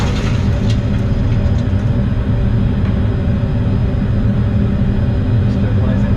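Full-sized Boeing 737 simulator cabin with a steady, loud engine roar and low hum running throughout, faint clicks on top.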